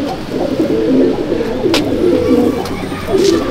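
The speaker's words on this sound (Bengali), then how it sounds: "দেখুন বন্ধুরা, আরেকটা কালদমা পেয়ার, এই নর এই মাদি" Kalduma Madrasi pigeons kept by a fancier in Liluah, Howrah, coo repeatedly in soft, low throaty rolls, close by and continuous, with a few brief higher chirps over the top.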